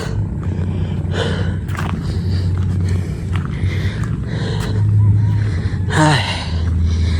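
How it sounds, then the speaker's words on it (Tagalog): Heavy, labored breathing after climbing 330 steps to a hilltop lookout, with gasps and breaths repeating steadily up close over a constant low background hum and brief bursts of speech. "Hiningal po tayo."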